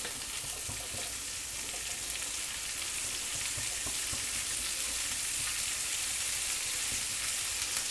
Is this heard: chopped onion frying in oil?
yes